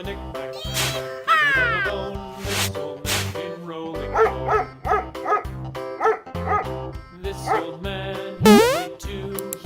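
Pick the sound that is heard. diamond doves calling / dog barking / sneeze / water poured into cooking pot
dog barking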